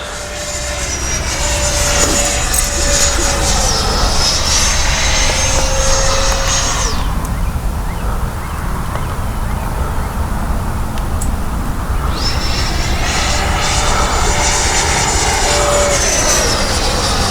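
A 90mm Freewing Eurofighter Typhoon RC jet makes a loud ducted-fan whine and roar as it flies past, swelling, easing off and swelling again across the pass with no talk.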